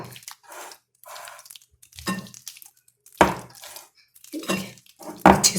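A chicken sandwich filling is stirred in a bowl, with irregular bursts of scraping and clinking separated by short silent gaps, close by and fairly loud.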